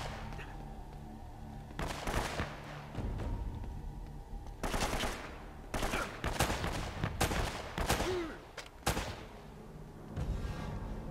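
Gunfire in the action game Uncharted: Drake's Fortune: repeated automatic bursts and single shots at moderate distance, over a steady low ambient rumble, with clustered volleys separated by brief lulls.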